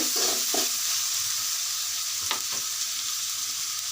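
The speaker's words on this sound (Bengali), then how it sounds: "এখানে চিংড়ি দিয়ে দিয়েছি পেঁয়াজের সাথে" Prawns and onions sizzle in a hot pan for a cauliflower and prawn stir-fry, a steady close frying hiss broken by a few soft stirring scrapes.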